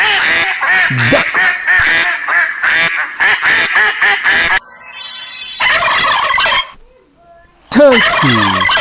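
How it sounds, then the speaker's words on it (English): A turkey gobbles in loud, rapid, rattling bursts that repeat almost without pause, broken briefly by a quieter gap and a short stretch of other fowl sounds. "turkey,"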